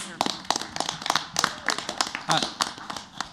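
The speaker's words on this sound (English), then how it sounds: "let's give them a round of applause" Scattered hand claps at a school board of education meeting: a small group claps in uneven, separate bursts over about three seconds, with room noise and murmured voices underneath.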